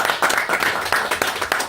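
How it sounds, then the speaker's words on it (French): A small audience claps at a press conference, a brief burst of scattered, uneven hand claps close by that fades within a couple of seconds. "On peut applaudir pour la production aussi"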